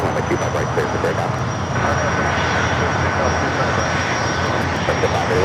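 Airliner taking off from runway 25 right at Los Angeles International Airport, a steady, loud engine roar that holds level throughout, with no clear rise or fade, alone without talk.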